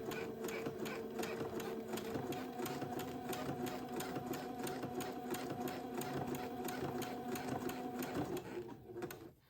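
A sewing machine stitching gown fabric runs in a fast, even, close-up rattle of needle strokes for several seconds, then winds down and stops at the end.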